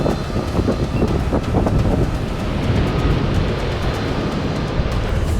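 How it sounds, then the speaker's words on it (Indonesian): Strong west wind blows on the coast of southern Java by a cliff face, a loud continuous roar with buffeting gusts across the microphone and a surf-like wash underneath. "Pak, anginnya Pak kenceng banget Pak."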